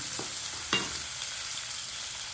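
Half a raw mango, cut into pieces, fries in about 100 ml of oil with an even, low sizzle, broken by a couple of quick stirring scrapes.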